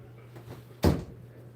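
A door being pulled closed indoors gives a single sharp, fairly loud thud near the middle, with quiet room hum before and after.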